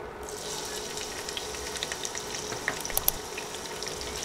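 Sliced onions fry with whole garam masala spices for khichuri, a steady broad hiss close by, with light crackles and a few sharper pops toward the end.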